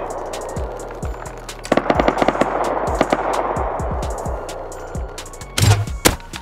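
Gunfire in the survival video game Rust, a string of sharp shots in quick bursts, some rapid and some spaced apart, with a louder close volley near the end.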